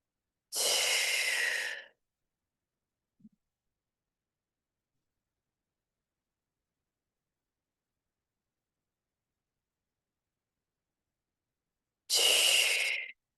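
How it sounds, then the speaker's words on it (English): Slow, deep breaths during a guided meditation, one long, close breath at the start and another about ten seconds later, with near silence and a tiny click between them. "We're going to take a few moments to just breathe in and out."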